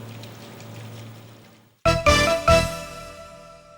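Water gushes from a drinking tap in a workplace, starting abruptly after a low hum and splashing loudly with a couple of surging bursts before settling into a steady close pour.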